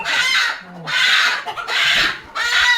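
Village country rooster and hens at a rural fowl seller's, clucking and crowing in loud repeated bursts close by, with brief gaps between calls and a voice briefly in the background.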